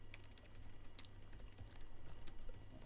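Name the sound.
typing on a computer keyboard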